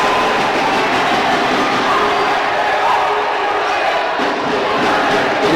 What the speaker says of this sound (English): Gives the crowd something to shout about.